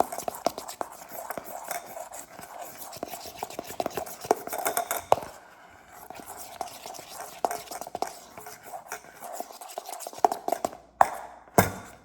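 Homemade body butter stirred in a container, with soft scraping and clinking of a utensil against the sides in a steady, close, quiet rhythm and a few sharper taps near the end.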